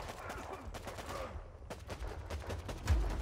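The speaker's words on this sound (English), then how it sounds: "Those grenade launchers are powerful." Grenade launchers fire in the military strategy video game WARPIPS as a quick, faint run of overlapping bangs and crackling bursts.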